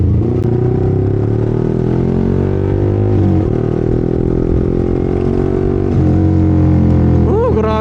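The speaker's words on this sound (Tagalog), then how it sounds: "Grabe traffic dito." A motorcycle rides through heavy traffic near a shopping area on a Saturday ride to school, its steady engine drone close and continuous with a brief rising rev near the end and surrounding vehicle noise.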